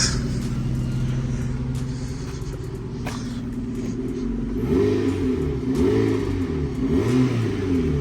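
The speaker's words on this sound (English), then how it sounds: "Engine sounds good." A used car's engine with a new exhaust runs loud and throaty, revving up partway through with deep, rising harmonic sweeps over a steady low rumble.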